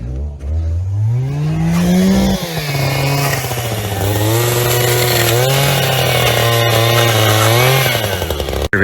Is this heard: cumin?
no